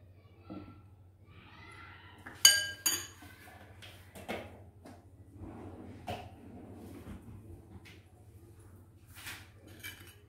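Kimchi-style salad being tossed with sesame oil in a bowl, with scattered clinks and scrapes of utensils against the dish, a sharper knock near the start, then softer intermittent stirring noises over a low steady hum.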